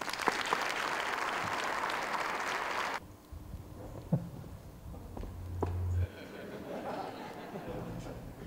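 Audience applause at a US Naval Academy leadership conference greeting Guy Kawasaki as he takes the stage; loud sustained clapping from a large crowd fills the first three seconds, then stops abruptly, leaving faint room noise and scattered footsteps.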